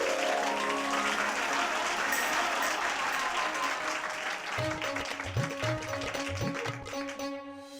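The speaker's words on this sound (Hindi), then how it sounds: "तालियां इसी बात पे।" Loud, dense clapping from an audience fills the first half, then thins and gives way to music with rhythmic beats toward the end.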